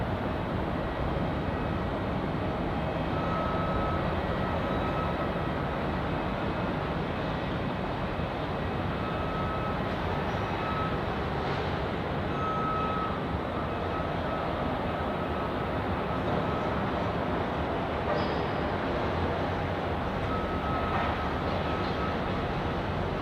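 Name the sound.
Jetstar airliner arriving on runway 34 at Melbourne Airport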